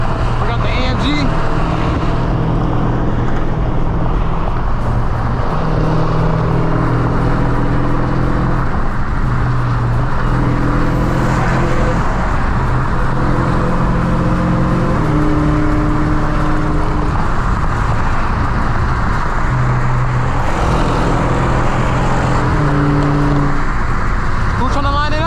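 A 1000 hp Dodge Challenger Hellcat Redeye is driven late at night, its loud exhaust and engine a constant close roar that swells and eases with the throttle, while people talk inside the car.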